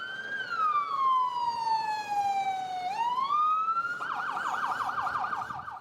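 A passing fire truck's siren wails in a long falling and rising sweep, then switches to a rapid, repeating yelp, loud and fairly close.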